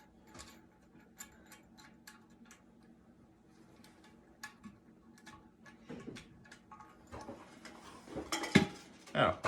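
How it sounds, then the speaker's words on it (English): Metal washers and nuts threaded by hand onto the bolts under a new American Standard toilet tank, with small metallic clicks and taps scattered through the quiet, then a denser cluster of clinks and scrapes near the end. "take your washer and your nut and screw them on through the bottom"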